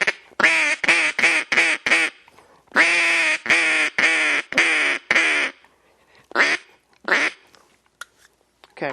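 A duck call blown in quick bursts: a rapid run of loud quacks, a second series, then a few sparser, softer quacks trailing off.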